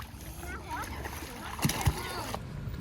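Person jumping into a lake from a boat, a couple of sharp splashes amid sloshing water, with voices talking over the scene outdoors.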